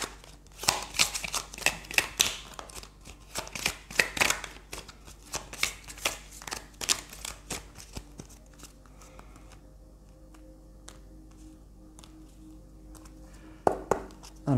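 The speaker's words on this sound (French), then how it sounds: "Je remélange bien les cartes." Tarot cards being shuffled by hand, a run of quick riffling, slapping shuffles for about eight seconds, then quieter handling and a few soft taps, close and clear.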